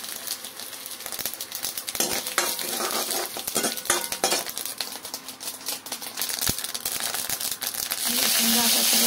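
Mustard seeds and chilies fry in hot oil with a busy crackling sizzle and sharp popping ticks, a spoon scraping and stirring through it, the frying swelling louder near the end.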